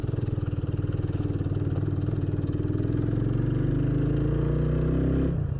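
A scooter motorcycle engine runs close by on a mountain road with a steady pulsing putter, holding a fairly even pitch before cutting off abruptly near the end.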